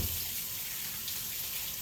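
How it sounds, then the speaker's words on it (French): Running tap water splashes steadily over an immersion blender being rinsed in a sink, a continuous close hiss and gurgle with no speech. "Je le lave immédiatement mon pied mélangeur."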